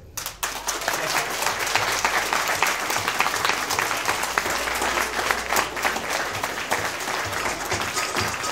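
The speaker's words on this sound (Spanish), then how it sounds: "les pido que le demos un fuerte aplauso a nuestra Constitución" Sustained applause from an audience at a law students' group session, honouring the national Constitution: a dense, steady wash of clapping that fills the room for the full length without pause.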